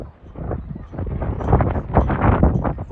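A stiff westerly wind blows from the land at Bridlington seafront, buffeting the microphone with loud, gusty low rumbling that swells and ebbs steadily throughout, with no talking.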